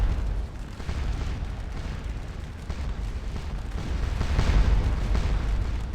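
Napoleonic-era cannon fire in the battle game Scourge of War: Waterloo, heard as a continuous deep rumble of overlapping booms that grows slightly heavier toward the end.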